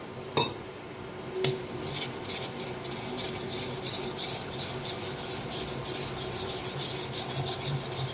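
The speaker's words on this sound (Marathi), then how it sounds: "तर थोडं थोडं पाणी ओतून ना बेसनला मिक्स करून घेऊया" Gram flour being mixed with water in a pot to make pitla. A close, rhythmic scraping and rubbing runs steadily throughout, with a couple of sharper knocks near the start.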